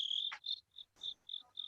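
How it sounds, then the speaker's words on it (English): Crickets chirp in short, repeated bursts, a high trill pulsing roughly every quarter second, close and clear with no talk over them. "I got crickets. Y'all hear the crickets?"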